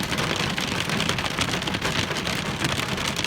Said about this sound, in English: getting hit by hail was not in my plans today